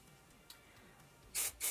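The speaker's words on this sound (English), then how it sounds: "A little bit of texture spray just to help with grip." Two short bursts of hair texture spray hiss in quick succession near the end, close and loud, after a quiet stretch.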